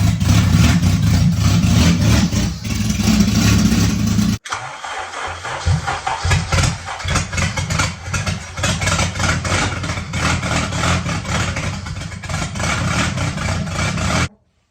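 A Honda K20-swapped car with a new 8th-gen Si exhaust roars loudly at first, briefly cuts out, then restarts and settles into a steady, loud idle that runs until it stops abruptly.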